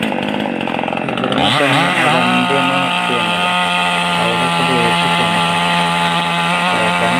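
Chainsaw cutting through a fallen coconut tree outdoors, loud and close, its engine revving up and then holding a steady high roar as the blade bites into the trunk.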